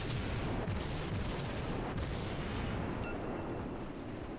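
Dull booming rumble of torpedo and bomb hits on a ship in World of Warships, a dense, continuous low roar of explosions heard close and alone.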